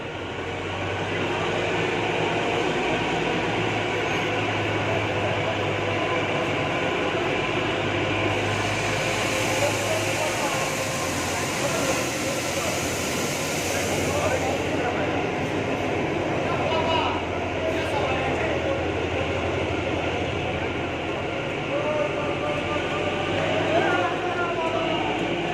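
Kalka to Shimla toy train rolling along on the mountain railway, a continuous rumble and clatter of the carriages, with people talking over it.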